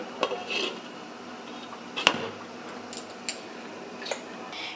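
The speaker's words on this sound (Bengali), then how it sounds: "এবার একটা ঢাকনা দিয়ে আমি ঢেকে দিচ্ছি মাংসটা সিদ্ধ হওয়ার জন্যে।" A metal lid is set over a pot of meat boiling on a gas flame turned up high, giving one sharp, close clank with a few lighter clinks of cookware before and after.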